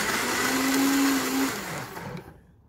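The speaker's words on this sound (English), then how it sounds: "We're gonna go ahead and give this a few pulses, just to get it all pureed up." A kitchen blender pulses serrano peppers and onions into a purée for an anchote fish marinade, a loud motor whir lasting just over a second, then spinning down and fading to silence.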